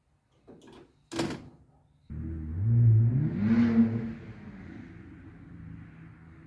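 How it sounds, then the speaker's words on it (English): A nearby car engine, a 1970 Buick GS with an LS1 V8, revs up and swells, then settles into a steady idle, preceded by a couple of sharp knocks. "Somebody's out there revving at me."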